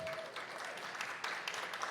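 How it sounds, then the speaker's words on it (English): Applause from a business-event audience for a real estate development speaker, a steady, moderately faint wash of clapping that runs through the short stretch with no speech over it. "So let's give it a round of applause to Nathan, please."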